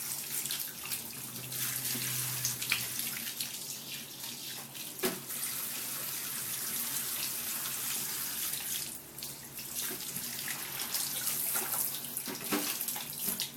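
Water runs steadily from a bathtub tap while a cat is rinsed, a continuous close splashing stream with small shifts in flow and no talk.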